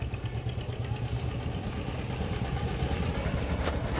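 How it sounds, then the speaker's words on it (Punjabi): A tractor engine runs nearby with a dense, steady low rumble and mechanical clatter. It stays loud throughout, with no clear change in distance. "ਟਰੈਕਟਰ ਆਈ ਜਾਂਦਾ ਅੱਗੇ ਧਿਆਨ ਰੱਖੀ"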